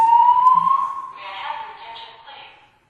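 A hotel early-alert alarm tone rings loud at first, a steady rising electronic wail that fades into a quieter, hollow, echoing tail over a few seconds.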